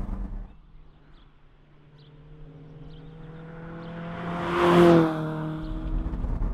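A Lotus Elise sports car drives at about 50 mph in traffic, its engine giving a steady, smooth hum. The hum gradually swells to a louder, brief peak, then settles back.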